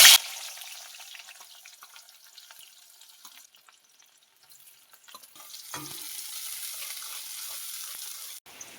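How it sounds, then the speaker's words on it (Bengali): Chopped onions dropped into hot oil for a Bangladeshi fish curry, a soft hiss and sizzle that fades, then returns as a steady frying sizzle with faint clinks, close and fairly quiet. "তেল গরম হয়ে গেছে, পেঁয়াজ কুচিগুলো তেলের মধ্যে দিয়ে দেবো।"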